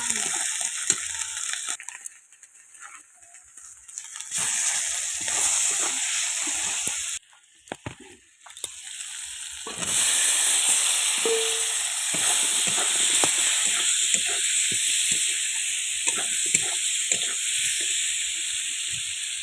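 Ginger hits a pan of frying onions, setting off a loud, steady hiss and sizzle that drops out briefly between bursts of stirring and scraping, then returns strongly for the rest of the stretch.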